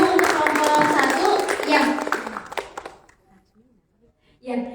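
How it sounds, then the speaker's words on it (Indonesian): Applause and clapping from a seated discussion group, a dense burst of hand claps lasting a few seconds then fading to near silence, with a short voice at the end. "kita berikan tepuk tangan dulu untuk kelompok 1"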